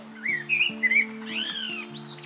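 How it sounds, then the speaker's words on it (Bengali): A cartoon pigeon gives a run of short, bright chirping calls, several quick rising and falling tweets in a row, heard close over a soft sustained background music bed. "টুনি কবুতরকে সব বুদ্ধি শিখিয়ে দেয়,"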